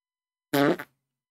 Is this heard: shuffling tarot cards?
no